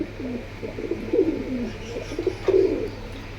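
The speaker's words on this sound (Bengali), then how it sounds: "এটা কি কবুতর ভাই" Pigeons at a market stall coo in repeated low, throaty bursts, several overlapping calls close by with a louder pair of coos near the end, over steady background hum.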